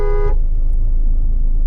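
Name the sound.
car horn honking on a Mahindra Thar ROXX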